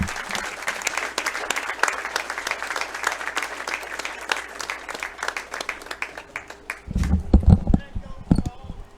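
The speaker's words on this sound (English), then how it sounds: "Please join us in giving a loud, heartfelt round of applause for Coach Rick Collier for 700 wins" Crowd applause at a college baseball game honoring a coach's 700th win, sustained clapping from the stands that thins toward the end, where a few louder, closer claps and low thumps stand out.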